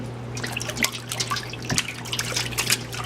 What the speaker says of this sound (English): Squeeze it out. Yeah, kind of try and get as much water out.